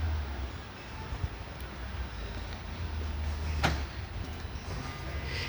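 Keyless-access door locks on a VW Golf 7.5 Highline engaging: one brief mechanical clunk rises over a steady low outdoor rumble, alone and close.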